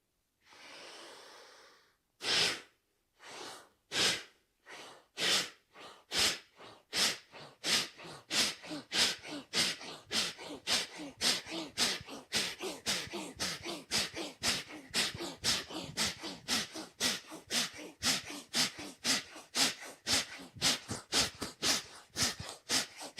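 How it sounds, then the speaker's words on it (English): Deep rhythmic breathing in a guided breathwork meditation, with a long first breath followed by steady inhales and exhales that gradually quicken and stay close and clear with no talking. "Deep inhale and deep exhale."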